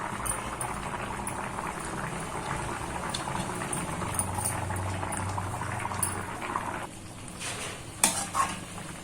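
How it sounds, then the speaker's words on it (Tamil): Ground onion paste goes into a simmering banana flower curry in a pot, with continuous bubbling and sizzling, stirring scrapes and a few sharper clinks of a utensil against the pan near the end. "இப்ப நம்ம இந்த குழம்புல இந்த அரைச்ச வெங்காயத்தை சேர்த்திக்கலாம்."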